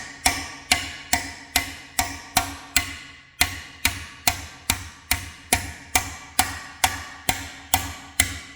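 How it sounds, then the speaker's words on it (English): Steady hammer blows while a Honda CBR swingarm is fitted to a CB1100F motorcycle in a workshop, about twenty sharp metallic strikes in an even rhythm, loud and close with brief pauses, no talking. "We gotta swing hammers."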